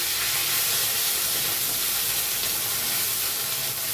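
Onion, garlic, ginger and garam masala hit hot oil with cumin, giving a loud, steady hiss and sizzle that holds without a break and with no voices.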